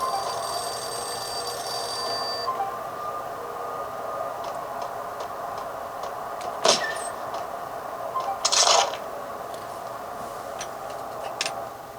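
A telephone rings inside the game Max Payne, running on a rebuilt Compaq Deskpro Windows 98 PC. Two brief bright rings stand out over a steady background hum and faint ticking game sounds.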